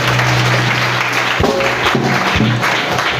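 Applause rises from a church congregation, a steady wash of clapping mixed with a sustained organ-like tone and some murmuring voices in the room.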